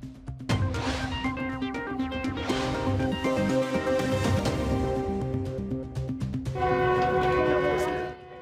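A freight train carrying Pakistani goods from Islamabad toward Iran and Turkey sounds its horn in long, loud, sustained blasts over a rumbling engine, with a brief pause before a final blast.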